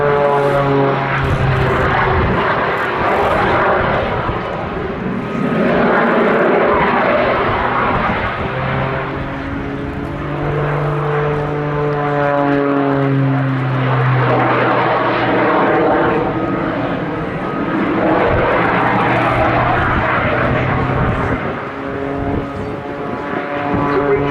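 A jet-powered Pitts Special aerobatic biplane roars steadily overhead at an air show, its engine pitch rising and falling as it passes and climbs, with a voice speaking faintly underneath.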